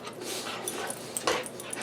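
A dog snorts and lets out a few short, high whimpers close to the mic, breathy and snuffling, with a sharper yip-like whine near the end.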